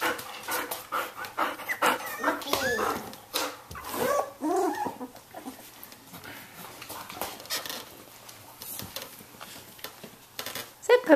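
A puppy breathes in quick, close panting puffs mixed with soft whimpers and small squeaks, with scattered rustling and pattering for about eleven seconds and no clear talking.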